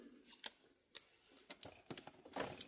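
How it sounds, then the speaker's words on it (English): Packing tape crackles and tears in short, quiet bursts as it is pulled off the box of a GCD Toyota Sequoia TRD Pro diecast model, Lamley Group edition, ending in a longer rasping strip. "the only thing you have to do is take this tape off and open it up"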